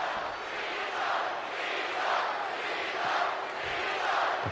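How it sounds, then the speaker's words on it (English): A video game wrestling arena crowd in WWE 2K25 cheers and chants in a steady, loud wash that swells rhythmically roughly every second, with no clear voices on top. "The crowd is all for Cena"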